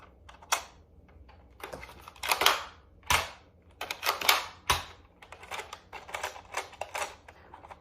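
Nerf Elite 2.0 Commander RD-6 blaster being fired and worked, a string of sharp clicks, snaps and clacks in an irregular rhythm, close and fairly quiet.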